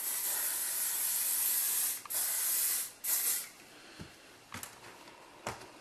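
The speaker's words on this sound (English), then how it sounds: "and then spray the back" An aerosol hairspray hisses in a long continuous burst, followed by a few shorter sprays and brief puffs, close and clear.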